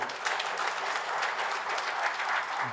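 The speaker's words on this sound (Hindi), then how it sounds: "इनके लिए ताली बजानी चाहिए" Audience at a cattle-breeding training camp gives a short burst of steady clapping, moderately loud, continuing evenly without voices.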